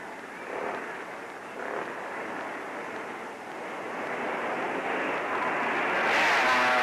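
Motorcycles from the 1957 Catalina GP race on the course as a steady, distant engine drone. It grows somewhat louder toward the end as more bikes come near.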